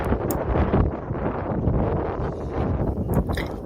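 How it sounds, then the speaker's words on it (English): Gusty wind buffets the microphone on a wet, windy day in Pendle, Lancashire, a loud continuous low rumbling roar with rustling bursts throughout. "here I am on this wet and windy day in Pendle"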